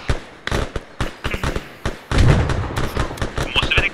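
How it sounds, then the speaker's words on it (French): Gunfire and explosions in an Arma 3 cooperative mission: a string of sharp bangs and thuds, then a loud, sustained blast with a heavy low rumble around the middle, with voices talking over the action. "Explosion."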